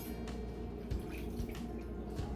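Hot beef broth is poured into a moussaka meat sauce, a soft steady liquid pour with faint splashes against a low background hum, close and without talk.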